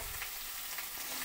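Pumpkin and potatoes frying in a pan for kumror chhokka, with a steady low sizzle and soft scraping stirs at an even rhythm, close by and alone.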